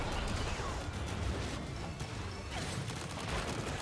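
Shotgun blasts in the arena shooter video game Rocket Arena: a rapid barrage of sharp cracks and crashes packed densely over busy game noise, with a few louder bursts.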